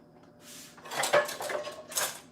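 A flat pot and cutlery are handled in a home kitchen while making spring rolls, giving soft metallic clinks and scrapes in a few quiet, close bursts.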